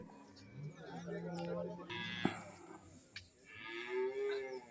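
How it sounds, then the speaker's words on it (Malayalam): A large buffalo at a crowded cattle market lets out drawn-out, low moos, with other livestock calling nearby and people talking over the scene. "ഇവിടെ ഒരു വലിയ പോത്ത് നിൽപ്പുണ്ട്"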